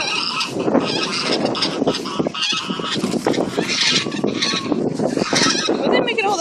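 A flock of geese by the water honking loudly and repeatedly in overlapping bursts, close and raucous as they squabble, with people's voices mixed in at times.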